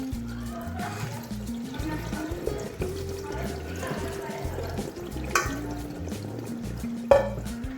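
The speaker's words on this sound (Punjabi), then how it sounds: "ਠੰਡਾ ਪਾਣੀ ਪਾ ਲਿਆ ਹੁਣ ਆਪਾਂ ਰਾਈਸ ਦੇ ਉੱਪਰ ਪਾਵਾਂਗੇ" Cold water poured over cooked rice while making Punjabi kadhi pakora, a soft steady trickle and splash running throughout, faint and close, with a few brief clinks and knocks near the end.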